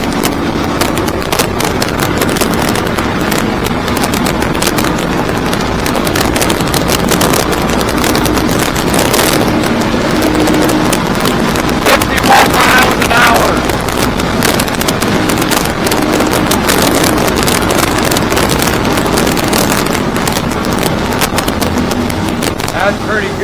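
A 2023 Stabicraft 2750 Ultra Centrecab running on twin Yamaha F250 outboards drones steadily and loudly at speed, mixed with heavy wind buffeting and water rush, while someone talks over it.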